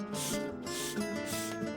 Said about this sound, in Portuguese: nós vamos lixar com uma lixa para madeira